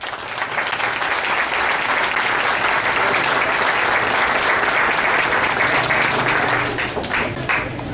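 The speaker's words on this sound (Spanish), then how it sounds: "les pido un fuerte aplauso" Loud, sustained applause from a municipal audience in Tejupilco, a dense wash of many hands clapping steadily for the full stretch with no voices rising above it.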